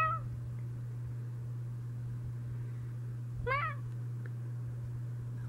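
A cat meows twice, a short call at the start and a clearer rising meow midway, fairly near but soft over a steady low electrical hum, with no talking.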